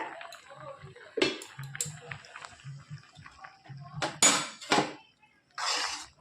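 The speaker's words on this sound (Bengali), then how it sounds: "এবার ঢাকনিটা তুলে ডালটা দেখে নেব কতটা ফুটে এসছে।" A lid lifted off a pot of jute-leaf dal simmering on low heat, a few metallic clanks and clinks with bubbling in between, close by, while someone talks over it.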